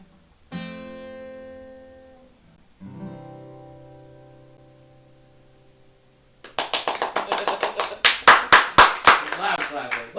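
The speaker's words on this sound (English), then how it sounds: "Loud clapping." Loud applause from a show audience at the end of a performance follows sustained held tones, dense clapping swelling in sharp rhythmic peaks close by.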